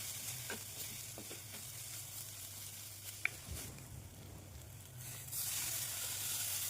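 Prawn roast masala with curry leaves and chili powder sizzles steadily as it sautés in a pan, with a continuous fry hiss, a faint hum underneath and occasional light scrapes of stirring.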